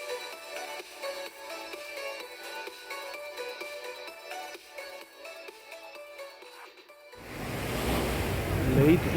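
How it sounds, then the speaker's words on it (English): Late-evening surf on Waikiki Beach in Honolulu, Hawaii, rising as a loud, close broadband rush of breaking waves in the final couple of seconds, after a quieter stretch of steady tonal sound. "This is Waikiki Beach, Honolulu, Hawaii."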